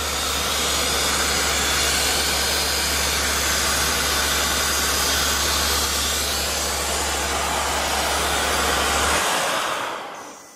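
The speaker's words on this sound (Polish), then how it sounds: "Teraz Wam autko zapalimy i pokażemy," A BMW 750d with the B57 tri-turbo diesel engine runs after starting, giving a loud, steady, broadband rushing roar with a low drone that cuts off near the end.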